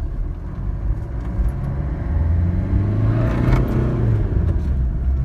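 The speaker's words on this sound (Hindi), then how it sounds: "आप देख सकते हैं गाड़ी को जो मैं ट्रायल पे लाया हूँ, गाड़ी जो है रनिंग है" A Maruti Ritz on a trial drive runs in first gear, its engine giving a steady, close, low rumbling drone that swells slightly as it pulls, with no voices.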